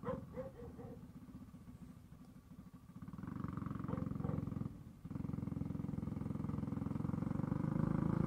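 A stage 3 Predator 212 small engine revs hard during a burnout, a buzzy growl that eases, then climbs into a loud sustained drone with a brief dip before surging again, nearby.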